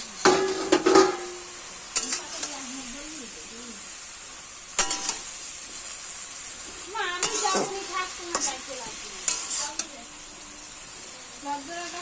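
Bottle gourd greens fry in a pan with turmeric, giving a steady hiss of sizzling oil broken by intermittent stirring clatters, while a voice speaks briefly at times.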